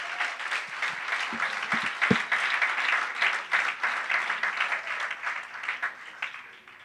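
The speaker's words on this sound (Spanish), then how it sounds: "Le recibimos con un aplauso." Audience applause at a church preaching event, a steady wash of clapping from a crowd that holds at a fairly even level for several seconds before tapering off at the end.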